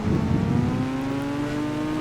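A flaming motorbike's engine in the Indian Bike Driving 3D game revs, starting with a rough, gritty burst that smooths into a steady, humming drone, loud and close throughout with no voices.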